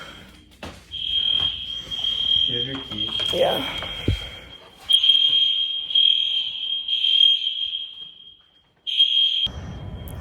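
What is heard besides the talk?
fire alarm going off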